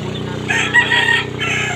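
A rooster crows once, loud and close, over a steady low background hum.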